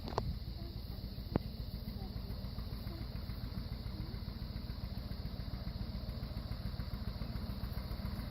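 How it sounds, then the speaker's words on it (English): An old two-cylinder John Deere tractor engine chugs steadily with a regular pulsing beat, fairly faint, with a couple of sharp clicks near the start, during hay cutting. "my husband and my son are out on the old John Deere 2-cylinder tractor."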